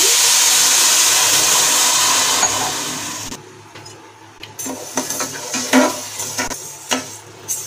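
Sugar and water heat into syrup in a kadhai, with a steady loud hiss fading after a few seconds, followed by quieter scattered clinks and stirring scrapes of a utensil against the pan.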